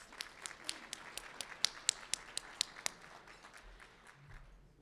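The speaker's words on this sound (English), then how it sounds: "Let's give him another round of applause" Sparse applause from a few people at a Southaven Chamber of Commerce luncheon, a string of distinct separate claps that thin out and fade, fairly quiet.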